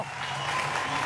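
Audience applause at a live broadcast show, steady and moderately loud across the whole second, a dense wash of clapping with no gaps and no voices above it.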